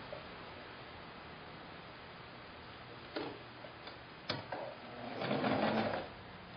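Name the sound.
sewing machine sewing quilt strips together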